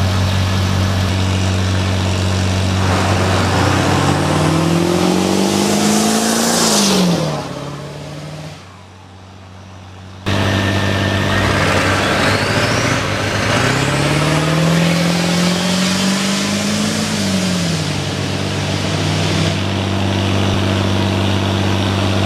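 A tuned 7.3 van engine revs loud and close, climbing in pitch through one long acceleration, briefly dropping off, then pulling hard through a second climb, with no voices.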